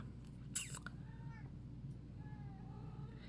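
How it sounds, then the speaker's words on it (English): A female cat in heat gives faint, drawn-out meows that sound like a crying baby, two or three wavering calls over a low steady hum with a brief knock near the start. "if you hear a cat meowing that sounds like a baby crying"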